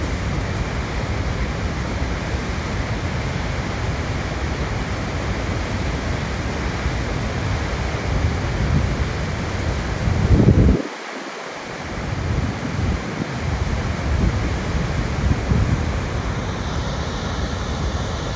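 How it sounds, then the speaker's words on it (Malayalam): American Falls at Niagara Falls on the American side, a massive, unbroken roar of cascading water heard close and loud, with a brief gust buffeting the microphone midway before the steady rushing thunder returns. "ഇതാണ് അമേരിക്കൻ സൈഡിലൂടെ വെള്ളച്ചാട്ടമായി വീഴുന്നത്"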